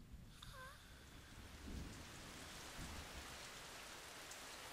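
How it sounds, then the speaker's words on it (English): Rain and thunder in Metal Gear Solid 3 form a faint, steady downpour hiss with a couple of low distant rumbles rolling underneath, and a brief chirping tone near the start. "Oh, it's gonna rain again."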